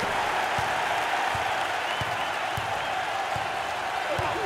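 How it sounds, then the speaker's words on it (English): A basketball arena crowd at a Big XII tournament game between Kansas and Baylor roars steadily and loudly throughout, with applause and a commentator talking underneath. "The crowd is thunderous."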